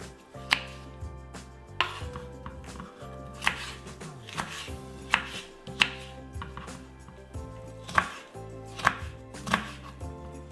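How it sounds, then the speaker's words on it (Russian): A knife dices bell pepper into small cubes on a cutting board, sharp repeated knocks in quick bursts, close up with no voices. "Перец нарежем небольшим кубиком."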